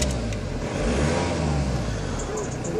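A car engine idles and revs with an OBD scanner app connected, a steady close engine hum with mild rises in pitch. There is no clear speech over it.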